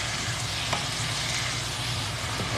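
Mushrooms sizzle and fry in olive oil alongside garlic and squid in a pan, a steady dense crackle throughout with no talk.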